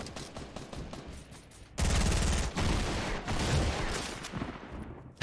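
Fortnite gunfire: a few light sparse shots give way to a sustained loud fusillade of rapid automatic fire that continues for several seconds, with no talking.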